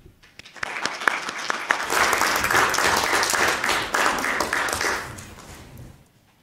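A lecture audience at the University of Evansville applauds to welcome Dr. Bashar Mourad, with dense clapping that swells within a couple of seconds, holds steady and then fades out.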